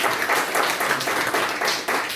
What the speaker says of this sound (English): so you can give him a wee round of applause there